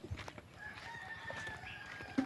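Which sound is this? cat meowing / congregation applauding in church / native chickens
native chickens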